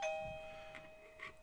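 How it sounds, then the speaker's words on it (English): A small doorbell chimes faintly in a quiet room, with a steady high ringing tone through the short clip and a couple of soft dings. "That was a little doorbell there."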